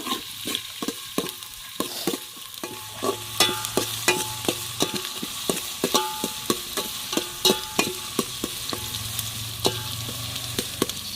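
Onion frying in hot oil for a Kolhapuri-style bhaji makes a constant crackling sizzle, with rhythmic scraping stirs of a spatula against the pan repeating closely throughout.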